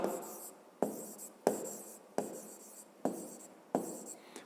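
A pen scratches across paper in short, close strokes, with about six separate bursts marked by light taps, written out as a school physics exercise.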